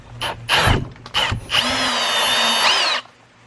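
A power drill whirs in a few short bursts while modding a pump sprayer's air pump and valve stem, then runs steadily at a high whine for about a second and a half before stopping.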